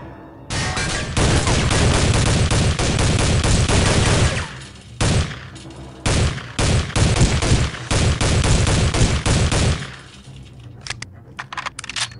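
Rapid automatic gunfire in the video game Soldier of Fortune II, loud and dense, in long sustained bursts broken by short gaps, then trailing off into quieter game sounds.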